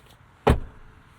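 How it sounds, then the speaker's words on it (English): A heavy rear seat in a 2024 Mercedes-Benz E450 folds back up with a single solid thump and latch, followed by a brief fading rustle. "I'll fold that back up."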